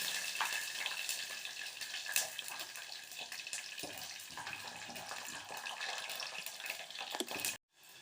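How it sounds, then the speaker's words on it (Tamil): Black chickpeas frying in hot oil for a South Indian vathakuzhambu give a dense, continuous sizzle with scattered small pops and crackles, close and steady before cutting off abruptly. "நம்ம சேர்த்துருந்த கருப்பு கொண்டக்கடலை எல்லாம் படபடன்னு நல்லா பொரிஞ்சு வந்துடுது"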